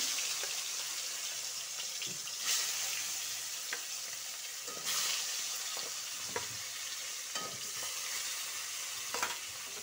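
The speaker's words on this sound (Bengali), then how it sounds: "তেলটা গরম হয়ে গেছে, ফলি মাছ ছেড়ে দিব।" Foli fish fries in hot oil, a steady crackling sizzle that runs throughout, with occasional clattering stirs and scrapes in the pan.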